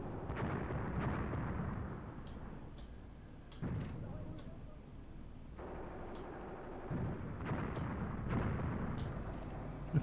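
Called-in artillery in Graviteam Tactics thuds and rumbles in distant repeated booms, with sharp ticking impacts scattered throughout, moderately quiet and steady over ten seconds.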